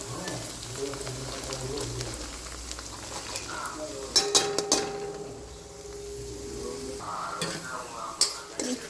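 Onions sizzle as they are stirred into ginger-chili-garlic paste in a kadai while making restaurant-style Manchurian, with a steady frying hiss, a few clanks of the spoon, and a voice speaking over it.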